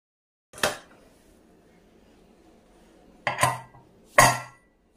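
Three sharp metallic clanks of a pot being set down into a pressure cooker, one early and two close together near the end, with quiet between them.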